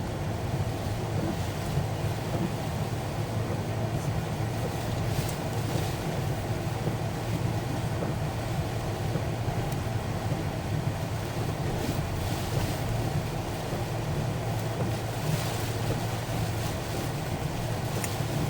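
Heavy rain pours down while driving on the M9 motorway in the Falkirk district of Scotland, a constant loud roar of road and rain noise inside the vehicle with a steady low rumble and no talking.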